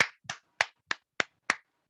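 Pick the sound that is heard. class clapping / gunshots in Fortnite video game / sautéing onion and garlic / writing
class clapping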